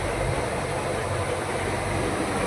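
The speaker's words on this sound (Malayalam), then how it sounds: "കോറൽ ദ്വീപിലേക്ക് നീങ്ങിക്കൊണ്ടിരിക്കുകയാണ് ബോട്ട്" A boat engine runs while heading toward Coral Island off Pattaya, a steady, unbroken drone mixed with rushing wind or water noise, with no voices.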